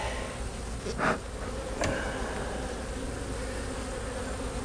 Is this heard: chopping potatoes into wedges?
no